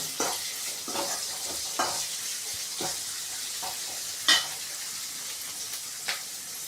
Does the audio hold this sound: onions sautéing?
yes